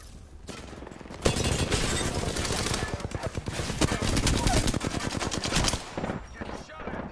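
Rapid automatic gunfire in an Apex Legends match, long dense bursts of machine-gun shots nearly filling the clip, loud and close, with brief pauses and single cracks near the end.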